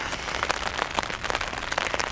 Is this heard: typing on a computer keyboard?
no